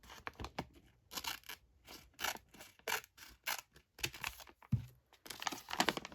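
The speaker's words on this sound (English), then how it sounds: "All right, I'm going to use the scissors." Scissors snip and crinkle through paper for a creative journal, a close, quiet series of irregular cutting and rustling sounds with brief pauses between strokes.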